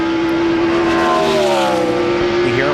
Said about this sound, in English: you hear him floating the throttle